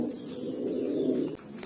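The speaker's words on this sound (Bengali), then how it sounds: "আমার বাসার আজকে আপনাদের র গরিলা কবুতর একটা দেখাবো, একটা নর কবুতর" A male Raw Gorilla pigeon gives a single soft, rolling coo close by, with no other sounds around it.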